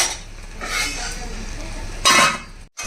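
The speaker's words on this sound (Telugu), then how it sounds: "అడుగంటకుండా ఇలా మధ్య మధ్యలో కలుపుతూ ఉండాలి కదండి." Chicken curry with tamarind pulp, peanuts and split chickpeas stirred in a pan to keep it from sticking, a spoon scraping in a few distinct strokes, the last the loudest, over a faint simmer.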